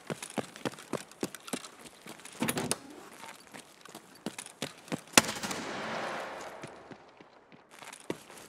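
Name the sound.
frag grenade explosion in video game Escape From Tarkov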